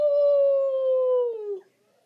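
A voice imitates a spooky Halloween ghost's howl. It is one long, steady, wavering tone lasting about a second and a half, loud and close, then sliding down and cutting off into silence.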